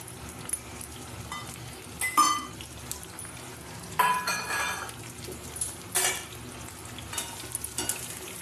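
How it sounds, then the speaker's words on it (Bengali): Pointed gourd and soya chunks frying in a pan, a low sizzle broken by several clinks and scrapes of a utensil being stirred and turned, fairly quiet and close. "একদিক ভাজা হয়ে গেছে, আমি উল্টিয়ে দিলাম আবার।"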